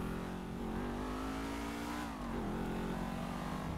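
Sports car engine accelerating, a steady mid-pitched drone that shifts as the revs climb and dip slightly, heard close with no talk.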